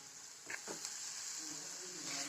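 Amla chutney with onion and tomato frying in bubbling oil, a soft continuous hiss and sizzle, close but quiet, with faint brief stirring sounds and a murmur of voice.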